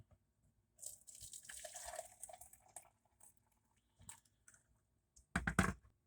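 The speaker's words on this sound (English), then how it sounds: "I'm gonna measure out 8 ounces of water" Hot water just off the boil is poured and measured out for coffee in a short splashing stream, followed by quiet handling clicks and a final sharp clatter, with no talking.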